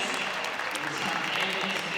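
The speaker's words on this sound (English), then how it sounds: "She's back on her feet and receives the applause of the crowd." Stadium crowd applauding a runner after the women's 400-meter final at a university athletics championship, a steady wash of clapping at moderate distance for the whole stretch.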